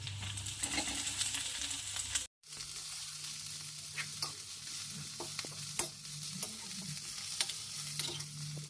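Pathri greens hit a hot pan with a loud sizzle, then frying continues under scattered scrapes and clinks as a spoon stirs them, with a brief silent gap early on.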